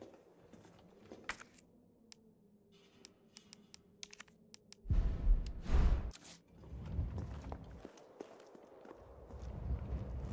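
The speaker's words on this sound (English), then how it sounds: "I thought I heard footsteps." Footsteps in the Resident Evil 3 video game come as sparse sharp clicks and taps, followed by a burst of louder, dense steps and thuds later on, with quiet gaps between; no talking.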